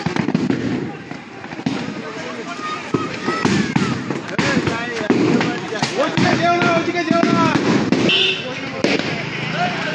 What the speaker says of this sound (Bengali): মালখানায় মজুদ বাজি থেকে বিস্ফোরণ বলে জানা যাচ্ছে